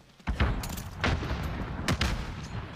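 Gunfire in Warzone on the Caldera map: several loud, close bursts of rifle shots crack out in quick succession over a dense rumbling game backdrop, with no voices.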